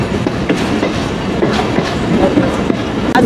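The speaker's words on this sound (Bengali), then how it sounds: "আজকে মংলা কমিউটার ট্রেনে" The Mongla commuter train rumbles loudly along the rails with a continuous dense roar, faint wheel clatter running through it, heard from inside the carriage.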